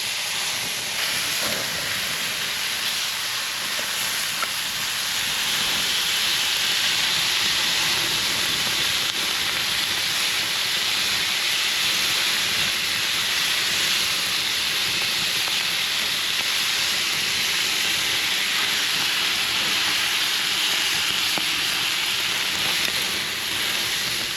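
Fish frying in straight olive oil in a pan, a steady broadband hiss and crackle that holds evenly throughout, close and continuous with no talking.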